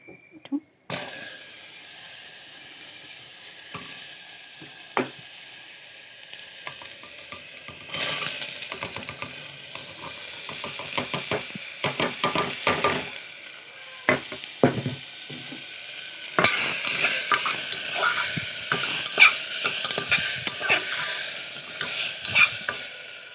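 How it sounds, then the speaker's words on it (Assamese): Vegetables fry in a spoonful of hot olive oil for a baby khichdi recipe: a continuous close sizzle that swells in bursts, with repeated clattering scrapes and knocks of a spoon stirring the pan. "এক চামুচ অলিভ অইল ব্যৱহাৰ কৰিছো তেলখিনি গৰম হৈ আহিলে এটা এটাকে সব সবজি ইয়াত দিম"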